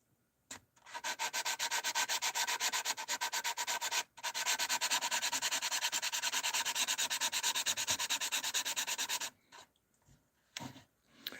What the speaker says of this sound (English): I don't want to do any more sanding.